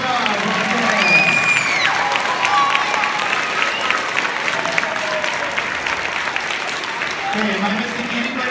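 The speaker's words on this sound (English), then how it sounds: "Air Force, give her a round of applause." A crowd applauds an Air Force veteran at a school push-up challenge honoring the military, sustained clapping with some cheering and voices mixed in, fairly close and loud throughout.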